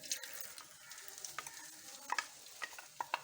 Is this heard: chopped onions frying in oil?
yes